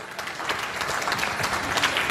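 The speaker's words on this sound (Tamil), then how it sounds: "நல்ல கைத்தட்டு கொடுங்கள" An audience applauds children who have just performed, a continuous wash of many hands clapping at a steady level for the whole stretch, with no voices standing out.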